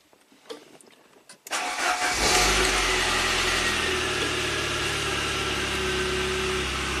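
A 1993 Saab 9000 CSE Turbo cranks briefly after a few faint clicks, then catches and settles into a steady, close idle that holds at a raised speed, with no talking.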